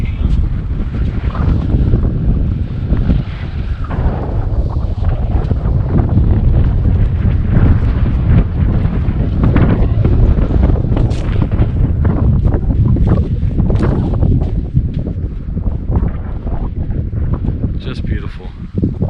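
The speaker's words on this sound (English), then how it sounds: "It's that wind. It's a windy day" Strong wind in a Nebraska national forest buffets the microphone in constant loud gusts, a dense low rumble filling the whole stretch with no pauses.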